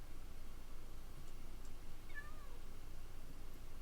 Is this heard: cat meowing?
yes